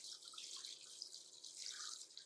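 Running water splashes and trickles steadily as a fish is rinsed before seasoning, a soft, close, continuous wash of water lasting a couple of seconds without speech.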